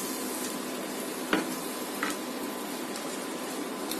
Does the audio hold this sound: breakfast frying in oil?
yes